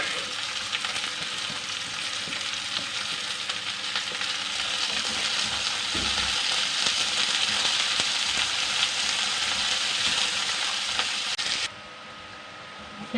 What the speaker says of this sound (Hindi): अब हम इसमें 2 अदद बारीक कटे हुए प्याज हैं, वो भी इसमें डाल के फ्राई करेंगे।